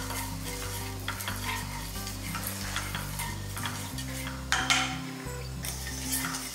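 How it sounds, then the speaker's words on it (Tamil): Cumin, fennel, coriander and poppy seeds dry roasting in a pan, stirred steadily with a close, continuous scraping and light crackling sizzle, with no talking. "இந்த மாதிரி ட்ரை ரோஸ்ட் பண்ணியாச்சு."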